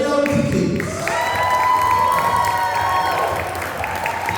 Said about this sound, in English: So a massive round of applause for grade 8 graduates